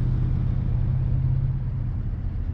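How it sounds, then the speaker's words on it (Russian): Passing cars and trucks, such as KamAZ lorries and GAZ vehicles, on a forest bypass road make a steady, loud traffic rumble with no pauses and no voices. "Поснимаем маленько машины, как они ездят."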